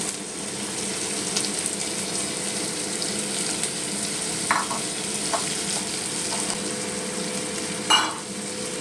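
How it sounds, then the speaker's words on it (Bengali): Chopped onions fry in a pan, a steady close sizzle broken by a few scraping stirs and clinks of the spatula. "ভালো করে লাল লাল করে পেঁয়াজটা ভাজবো।"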